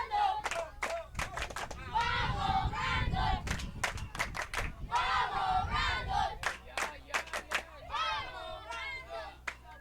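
Crowd noise at a youth baseball game between the Kingsmen and Esperanza, caught on the crowd microphone: loud cheering, shouting and clapping that come in bursts, with voices calling out over a busy background.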